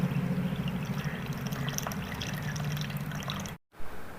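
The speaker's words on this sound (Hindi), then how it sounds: "इस तरह से हम कपड़े के अंदर से ये छान लेंगे" Whey strains from fresh paneer through a muslin cloth into a bowl, a soft continuous trickle and pour of liquid with low kitchen hum, fairly quiet, briefly cut to silence near the end.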